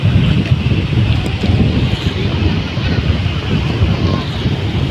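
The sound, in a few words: big ocean waves breaking at the beach in wind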